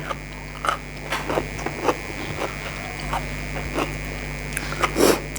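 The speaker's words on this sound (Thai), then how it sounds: "กินไม่พูดนะคะ อร่อย" Someone eats fried vegetables and fried fish with shrimp paste chili dip, giving soft, close chewing and crunchy bites spaced over a steady background hum, without talk.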